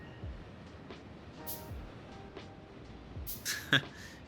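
A train runs in the video game Factorio, with a low rolling rumble, rhythmic clicks of wheels over rail joints, and a short sharp clank near the end.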